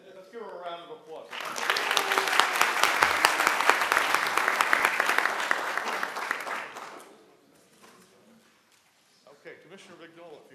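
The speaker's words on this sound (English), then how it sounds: "Let's give her a round of applause." An audience at a commission meeting breaks into a burst of applause lasting several seconds, fairly loud and dense, then fades, with voices speaking just before and after.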